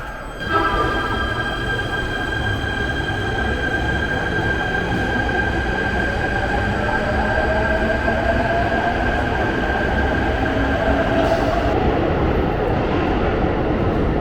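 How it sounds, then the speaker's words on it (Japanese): A train departing a deep underground station in Japan rumbles steadily throughout, with a sustained electric motor whine and tonal hum rising slightly as it pulls away; no voices. "じゃあ電車が行くの見よっか。"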